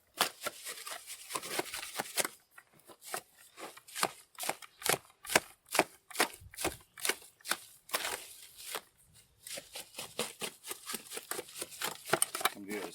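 Adobe cob mud being sliced by hand, a long series of sharp wet cutting strokes in a steady, fairly quick rhythm with a short pause midway, close and crisp.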